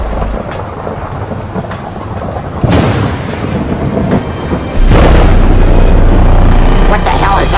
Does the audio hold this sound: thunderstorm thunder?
yes